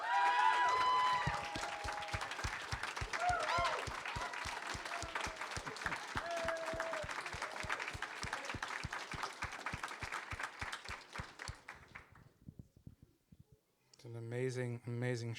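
Audience applause at a literary reading event, a dense burst of clapping with a few whoops that gradually thins out and fades, followed by a voice speaking.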